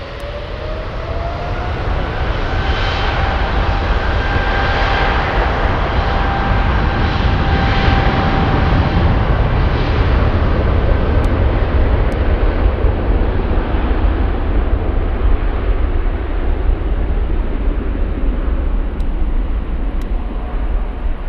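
Heavy jet airliners rumble at Frankfurt airport in the evening, a loud, continuous broadband engine roar with a whining tone that swells and persists throughout, no talk.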